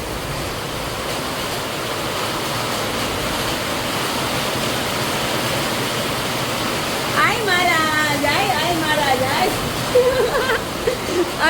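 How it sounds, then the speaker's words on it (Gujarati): Heavy rain pours down in a steady, dense roar; partway through, a voice starts talking over the downpour. "ધોધમાર વરસાદ શરૂ છે"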